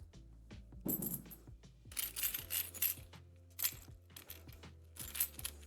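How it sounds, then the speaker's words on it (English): Metal coins from the board game Viscounts of the West Kingdom clink and rattle close by in repeated small bursts of bright jingling, with sharper spikes as pieces drop and settle, and no voices. "It's just the sound of metal coins clinking along."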